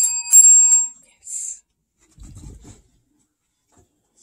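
A bell rung by a dog on command, a bright ringing strike that rings out briefly, then a second shorter ring, followed by a brief spoken word.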